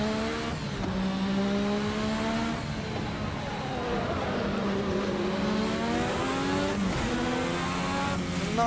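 A 1986 Formula RSS F1 car in a racing video game revs and pulls away tentatively, its engine climbing through repeated gear rises with a brief high tire squeal near the end.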